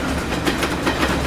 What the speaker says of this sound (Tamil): ட்ரெயின் வருது, ட்ரெயின் வருது.